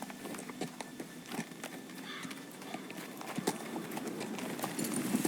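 Horses' hooves clip-clop steadily on hard ground in a Game of Thrones video game scene, a dense, continuous patter of many light hoof strikes at mid distance.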